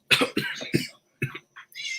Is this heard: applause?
no